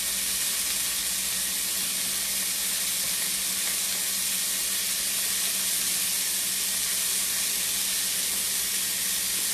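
Longaniza chorizo sizzling steadily in a pan, a constant close hiss of frying fat with no breaks or talking.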